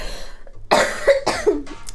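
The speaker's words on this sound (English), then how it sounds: "I'm sorry for coughing on air." Several harsh coughs from someone who has been sick for about a month, close and loud, in a burst of two or three bouts with short gaps, on a live chat broadcast.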